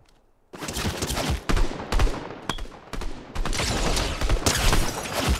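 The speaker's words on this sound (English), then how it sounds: "This is a good shotgun." Shotgun blasts from Fortnite solo play ring out in a rapid exchange: several loud, sharp booms with short gaps, then a denser burst of firing toward the end, with no talk over them.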